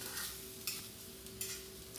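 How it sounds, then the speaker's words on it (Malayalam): Grated coconut, small shallots and curry leaves roasting in a pan for Kerala varutharacha sambar, a faint steady sizzle with a few soft stirring scrapes, no talking. "അപ്പം അമ്മ ആദ്യം അത് വറക്കുന്നുണ്ട്"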